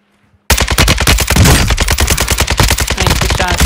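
Rapid, loud bursts of automatic gunfire from a multiplayer shooter game, starting abruptly after a brief silence and pounding on steadily with dense, overlapping shots.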